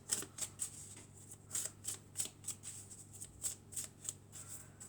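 Oracle cards shuffled by hand during a card reading, a quick series of crisp riffling bursts, about a dozen in a loose, uneven rhythm, close and fairly quiet over a faint low hum.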